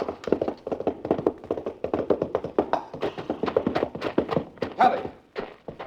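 Radio-drama horse effect of rapid hoof clip-clops galloping, then breaking into a stumble, loud and close with irregular thuds, as in an old-time radio mystery.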